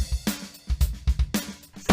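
A drum kit fill played with alternating right-left sticking, quick strokes moving around the toms and snare with kick drum hits underneath, close and punchy, ending on a crash.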